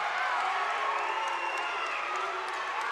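Gym crowd at a girls' high school basketball championship game groans and murmurs in protest after a traveling call, a steady broad roar of many voices with scattered whoops, fairly loud throughout.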